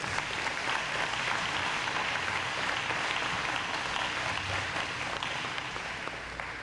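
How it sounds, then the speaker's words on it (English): A crowd at a YMCA gymnasium dedication gives a sustained round of applause, a thick and steady clapping that fills the room and fades slightly at the end. "So let's give a round of applause to Maria as well, his wife"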